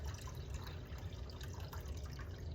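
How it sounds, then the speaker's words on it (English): Pumped water pours and splashes steadily into a tea kettle, a close, continuous trickling and gurgling with no talking. "So I'm going to fill my tea kettle up with some water"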